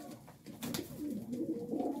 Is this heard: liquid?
no